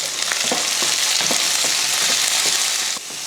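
Shallots, garlic, ginger and tomatoes sauté in a pan with a loud, continuous sizzle, and a utensil stirs them with repeated scraping taps close by, with no speech.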